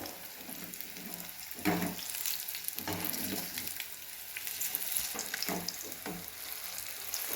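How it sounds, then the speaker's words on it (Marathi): Egg bhaji fritters fry in hot oil, being flipped to cook the second side: a steady crackling sizzle runs throughout, with a few scraping clatters of a utensil in the pan, and no voices. "आपले एका बाजूने भजी चांगले तळलेत आता दुसऱ्या बाजूने पलटी मारून आपण तळूया"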